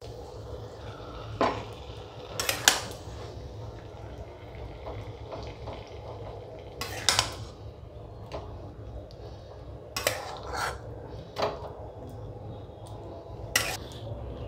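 A pan of doi potol taken off the heat and served, with faint clinks of metal utensils and dishes scattered over quiet kitchen background.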